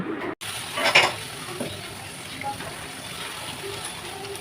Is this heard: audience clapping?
no